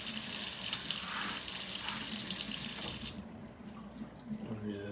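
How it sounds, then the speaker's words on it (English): Water gushes steadily from a kitchen tap while a yellowtail snapper is cleaned, a loud continuous rush that cuts off partway and then returns with lighter splashing. "Run my water."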